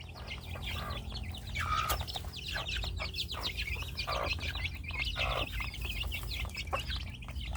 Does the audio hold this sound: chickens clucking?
yes